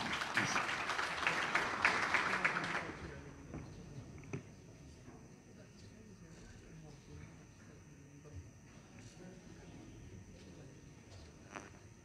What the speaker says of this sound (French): Alors applaudissez Monsieur Hassan.